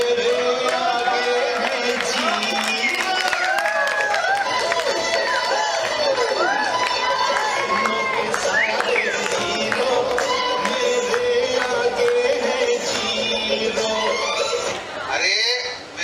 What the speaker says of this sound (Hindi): तो मैं जोरदार तालियों से स्वागत करना चाहता हूँ हर दिल अजीज गोविंद राम उर्फ भारी गोविंदा